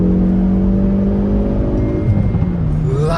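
A Hyundai i30 N with a manual gearbox revs hard, its engine note droning steadily, then dropping and climbing again as it shifts, loud and close.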